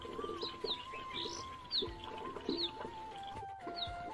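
A small bird gives repeated bright, high chirps at intervals in the morning at a home near Rishikesh, with a steady whistling tone and a few lower clucks underneath, fairly close and without talk.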